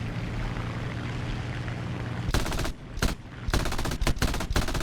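Bursts of aircraft machine-gun fire during a War Thunder dogfight, several short loud volleys over a steady engine drone.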